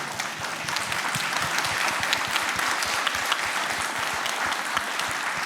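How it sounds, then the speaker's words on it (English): Steady applause from a large audience, dense clapping sustained throughout with no voices breaking through. "we applaud Vladimir through you."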